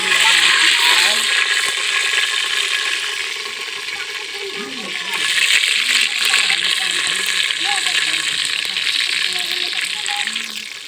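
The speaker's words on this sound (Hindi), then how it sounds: "हमारा घी गर्म हो चुका है और अब हम इसमें डाल रहे हैं प्याज" Onions frying in hot ghee make a loud, steady sizzle close by that swells again about halfway through, while a voice speaks faintly underneath.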